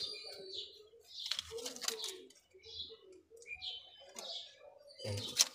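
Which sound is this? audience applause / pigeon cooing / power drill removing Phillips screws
pigeon cooing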